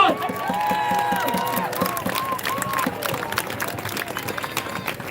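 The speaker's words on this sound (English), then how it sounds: "Another round of applause." A rally crowd applauds and cheers steadily at a freedom rally, with continuous clapping and raised voices throughout.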